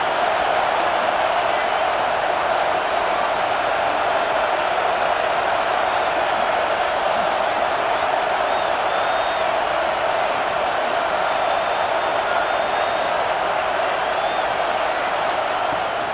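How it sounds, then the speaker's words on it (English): Loud, steady stadium crowd roar from a Big Ten championship game in the College Football 26 video game, a dense continuous wall of sound with no talk over it. "This crowd, full throat, splitting the eardrums and letting them know it's going to be a long day."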